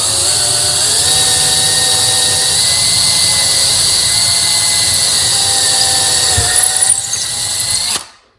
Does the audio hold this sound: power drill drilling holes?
yes